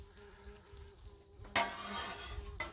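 An egg dropped onto a hot Blackstone griddle among smoked sausage, a faint hum and light scrapes giving way to a sudden bright sizzle that holds steady, with no talking.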